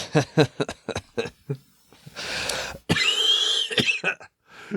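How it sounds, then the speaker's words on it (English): A close, harsh coughing fit with repeated hacking bursts, a rough throaty stretch and a strained wheeze, with short pauses between. "coughed his brains out"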